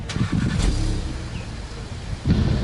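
Keyless start of a 2018-19 VW Golf GTI Mk7.5 on a hot Cape Town day: a brief starter whir, then the engine catches and settles into a steady idle.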